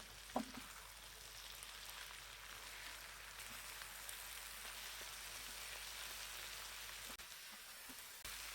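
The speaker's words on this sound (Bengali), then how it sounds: "থানকুনি পাতা দেওয়ার পর একটু নাড়িয়ে নিতে হবে" Mola fish curry fries with thankuni leaves stirred in, a soft, steady sizzle throughout with an occasional faint clink from the stirring, heard quietly and alone.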